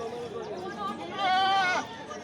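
A goat lets out a short, wavering bleat amid the murmur of a crowded livestock market, with people chattering nearby.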